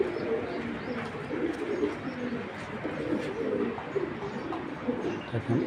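Racing pigeons coo softly and repeatedly in a loft, a steady murmur of low throaty calls with occasional faint chirps layered over continuous background noise.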